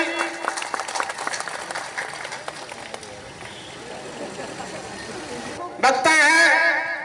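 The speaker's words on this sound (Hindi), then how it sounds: "एक बार जोरदार ताली" Applause at a political gathering in Bihar honouring MLC Ashok Chaudhary, dense crowd clapping that fades over several seconds before a louder burst of noise near the end, with voices mixed in.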